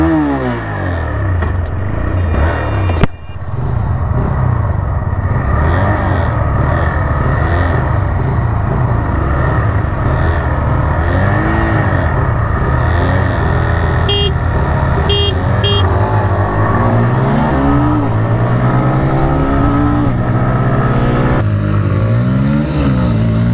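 TVS Raider 125 and Bajaj P150 motorcycles racing side by side: loud, close engine drone climbing and falling in pitch through gear changes, a sharp clack early on and short horn toots later, with no talk.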